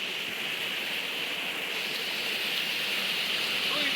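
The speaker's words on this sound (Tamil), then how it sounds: "இந்த பக்கம் பாரு தண்ணி எப்படி கொட்டுது" Water pours down Thalakona waterfall in a steady, dense rushing hiss that stays constant throughout and fills the scene.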